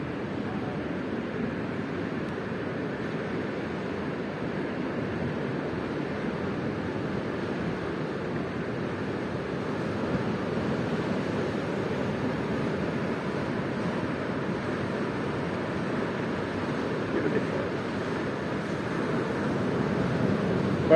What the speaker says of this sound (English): Quite big waves today.